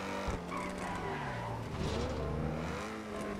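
Car in GTA V braking hard and skidding, engine tones sliding down under a steady roar of tire noise, continuous and fairly loud throughout.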